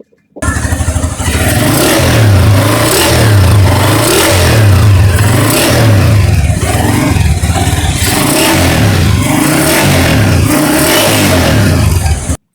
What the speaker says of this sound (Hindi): बाइक यहाँ पर हमारी स्टार्ट है,